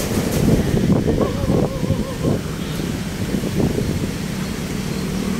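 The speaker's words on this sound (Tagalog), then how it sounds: "malamig ang hangin dahil medyo mahangin ngayon dito" Gusty wind along the Manila Bay seaside rumbles against the microphone while faint voices murmur in the background.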